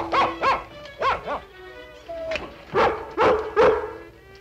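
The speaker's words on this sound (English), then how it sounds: "Hasn't anyone let that poor dog out of its crate yet?" Cartoon dog barking in a series of sharp, close barks with a few whimpering yips between them, loud and irregular, without talk over them.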